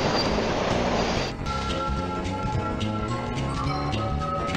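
The train feature of the Who Dunnit pinball game plays a dense, steady stretch of rolling rail clatter and mechanical noise, loud and continuous throughout with no voice.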